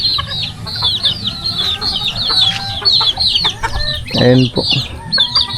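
Pet chickens at a fish pond farm cluck and squawk in quick, busy bursts close by while waiting to be fed, and a short spoken remark comes in partway through.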